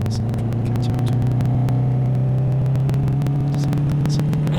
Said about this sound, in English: we should get the car taking off and racing down the track